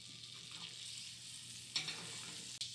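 Butter sizzles steadily in a hot pan on the stove, a close, even frying hiss with a couple of sharp clicks of utensil or pan contact partway through.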